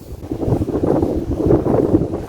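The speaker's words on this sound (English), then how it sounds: "It is really windy." Gusty wind buffets and rushes past at a county park campground, rising and falling in waves for a couple of seconds with no voices.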